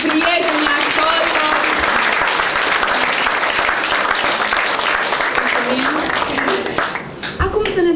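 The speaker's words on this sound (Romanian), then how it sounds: "Aplauze pentru prietenii actori." A theatre audience claps for the actors after a storytelling performance, sustained loud applause with a few voices mixed in, thinning slightly near the end.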